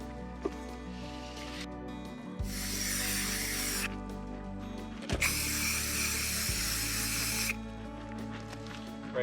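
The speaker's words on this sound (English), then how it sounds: "So I'm just going to spray paint this whole area right here." Aerosol can spray painting marks on the ground of a shed site: two long steady hissing bursts of a few seconds each, fairly close, with faint rattles and background music, no talk.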